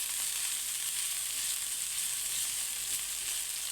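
Ginger sizzling in a very hot pan while cooking a crab dish in coconut milk, a bright continuous frying hiss at steady volume with no talking.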